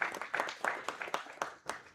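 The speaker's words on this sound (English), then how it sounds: "A round of applause for him again." A small audience at a workshop claps; the scattered, uneven claps come from a few hands at moderate distance and stay fairly quiet, with no talking over them.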